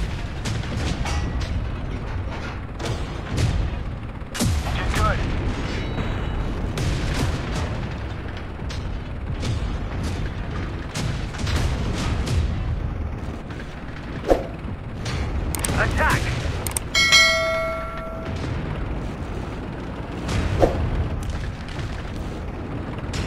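Tank cannon fire and shell impacts in a Leopard Prototype A battle in a tank video game, sharp booms scattered over constant engine rumble, with radio chatter and voices talking throughout.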